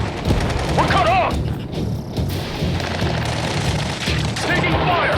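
Gunfire in the Ace Combat 7 video game: rapid, loud bursts of shots and booms run continuously, layered under shouted radio voices and a busy battle din.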